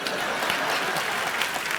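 Loud, steady applause from a live audience at a televised Independence Day comedy show, continuous clapping filling the whole moment without a break.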